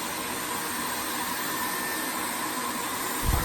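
A Dyson Airwrap hair styler at full speed gives a loud, steady rush of blowing air that holds at one strong level throughout, with a brief low thump near the end.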